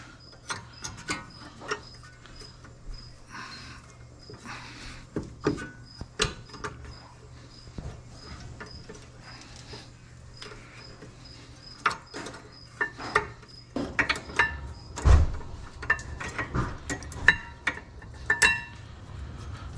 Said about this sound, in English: And now we can put the brake pads in.